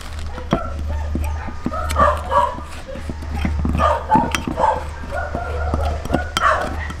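Several dogs bark, yip and whimper in short bursts near an outdoor cooking spot where spicy lechon belly is prepared, over a steady low hum.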